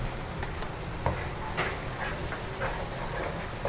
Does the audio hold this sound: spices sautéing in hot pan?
yes